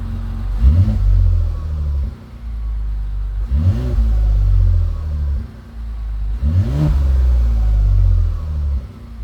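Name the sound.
Mazda CX-90 engine revving, Borla muffler quad tips, cold start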